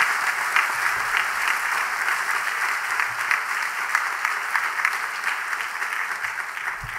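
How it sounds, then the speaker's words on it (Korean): A church congregation applauds a pastor at his inauguration service as international general superintendent, a warm, sustained roar of many hands clapping at moderate distance, steady and even with no voices. "오늘 다시 한번 국제 총회장으로 취임하신 목사님께 격려의 박수 뜨겁게 한번 부탁을 드리겠습니다"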